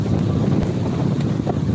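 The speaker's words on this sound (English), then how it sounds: "It's a brisk windy day." Steady wind buffets the microphone outdoors on a brisk day, a continuous loud rumbling roar with brief gusty thumps and no voices.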